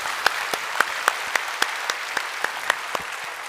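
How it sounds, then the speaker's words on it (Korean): Korean church congregation at a Sunday worship service giving thanks with applause: steady crowd clapping overlaid by a regular series of sharp, prominent claps, roughly three or four per second, close and loud. "우리 하나님께 감사의 박수 올려드리겠습니다."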